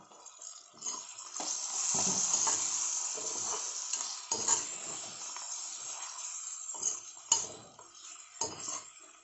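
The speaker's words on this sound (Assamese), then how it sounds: "অলপ কোমল হোৱালৈকে ভাজি ল'ব লাগে" Tomato chutney fries in a pan while a utensil stirs it, soft sizzling under repeated scraping and clinking strokes at irregular intervals, close and moderately quiet.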